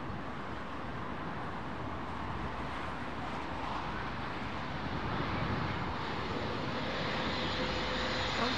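A CRJ regional jet lands at London Heathrow in high winds, its engines giving a steady, loud broadband roar that holds throughout and swells slightly toward the end, with gusty wind rumble mixed in.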